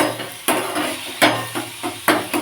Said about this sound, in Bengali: কাঁচা রসুন সাথে ভেজে নেবো ভালো করে